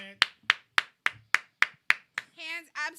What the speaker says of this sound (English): you have to give an applause